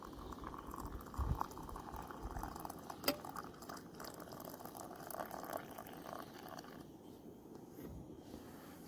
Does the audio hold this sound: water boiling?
yes